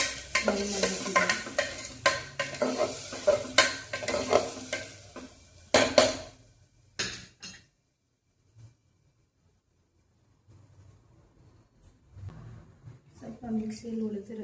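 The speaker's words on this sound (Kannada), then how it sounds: "ಹಸಿ ವಾಸನೆ ಇರೋವರೆಗೆ ಫ್ರೈ ಮಾಡಬೇಕಿದೆ" Ground mint paste, added over well-fried onions, stirred and sizzling in a pan, with dense scraping and spitting for several seconds that trails off into quiet before faint clatter and stirring resume.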